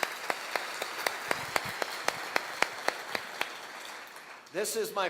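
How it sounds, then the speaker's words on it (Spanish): Scattered, evenly spaced hand claps from a conference audience ring out one by one at moderate loudness, followed at the end by a voice starting to talk. "quiero que se den un fuerte aplauso por esto"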